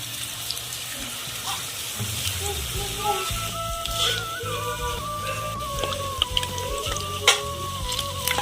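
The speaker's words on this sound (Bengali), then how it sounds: "এইভাবে সবগুলা ভেজে নেব" Potato sticks crackle and sizzle in hot oil, a busy bubbling fry up close with faint tones in the background later on.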